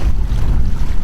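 A kayak cruises across the Columbia River, giving a steady, close rumble of wind buffeting and water rushing past the hull, continuous and fairly loud with no voices.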